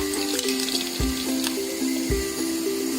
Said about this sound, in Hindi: इसको अच्छे से मिला देते हैं आइस के पानी के साथ।